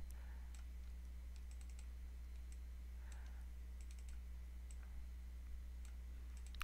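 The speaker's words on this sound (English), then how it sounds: "I'm going to click on Browse, and then I'm going to locate" Light, sparse clicks of a computer mouse while browsing for a file, faint and close against a steady low electrical hum, with irregular single and double clicks.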